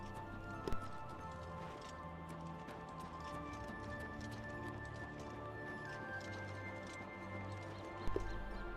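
Horse hooves in the video game Oblivion Remastered clop in a steady rapid rhythm, galloping continuously, with a couple of louder thumps near the start and end.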